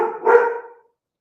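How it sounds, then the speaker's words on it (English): A golden doodle lets out one deep, fairly loud bark that fades quickly into silence, with no voices around it. "you can hear my dog, who is the sweetest, most gentle golden doodle you've ever"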